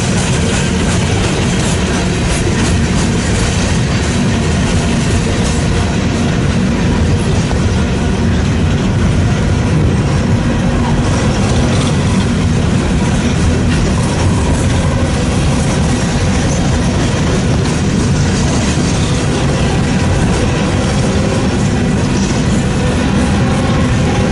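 An eastbound BNSF freight train, a long manifest hauled by plenty of locomotive power, rumbles past steadily and loudly for the whole stretch, with a constant roar of wheels and engines near Fremont and Ashland, Nebraska.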